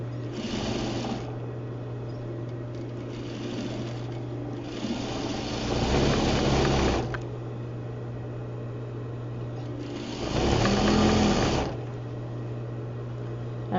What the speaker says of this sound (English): Stitching that to my waistband